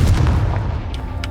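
Confringo fire-blast spell cast in Hogwarts Legacy, a loud booming burst with low rumble that trails off over about a second, followed by faint sharp crackles.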